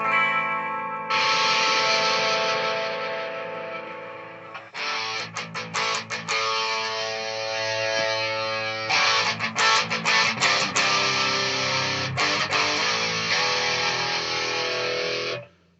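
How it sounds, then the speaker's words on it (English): Electric guitar through overdrive and distortion pedals on a Boss pedalboard, loud and gritty chords and riffs, with short choppy strums in the middle before ringing out and cutting off. "So that's going to be your overdrive and your distortion."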